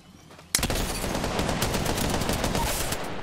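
Sustained automatic gunfire in the battle-royale shooter Apex Legends bursts in abruptly and continues as a loud, dense rapid stream of shots filling the rest of the moment, with no voices over it.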